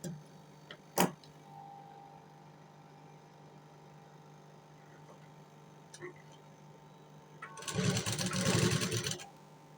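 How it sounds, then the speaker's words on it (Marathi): A sewing machine stitches over elastic on a blouse sleeve, running in a loud, rapid mechanical burst near the end after quieter ticks and a sharp knock earlier, with someone speaking in between. "आता आपण इलास्टिकवरती अजून 2 शिलाई मारून घेऊया."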